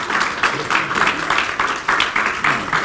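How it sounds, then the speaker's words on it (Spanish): A church congregation gives a welcome round of applause, rhythmic clapping pulsing in waves for a few seconds, fairly near with a faint voice mixed in. "Le damos un aplauso de bienvenida"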